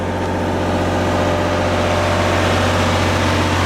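A generator engine runs during a power outage, giving a loud, steady low drone with a constant idling vibration throughout and no talking.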